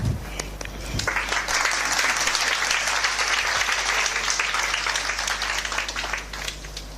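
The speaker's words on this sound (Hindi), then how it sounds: "एक दो हाथों ने ताली बजाई।" Dense audience applause from a crowd at a motivational talk on prayer, continuous and loud for the whole stretch after a brief opening moment.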